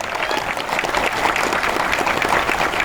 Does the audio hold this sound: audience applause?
yes